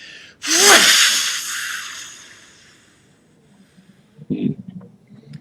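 A single forceful, powerful breath blasts out sharply and tapers away over a couple of seconds, then a smaller breathy burst follows near the end, close and loud with no speech.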